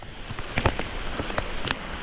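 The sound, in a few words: heavy rain falling over a river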